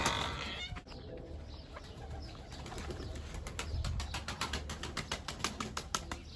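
Ala pigeons released from their coop, with a flurry of flapping wings and soft cooing and clucking calls over steady outdoor background noise, growing busier toward the end.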